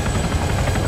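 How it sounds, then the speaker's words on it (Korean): Enemy helicopter in a military video game, a loud steady rotor chop and engine rumble, close and continuous for a brief moment. "적 헬기 확인."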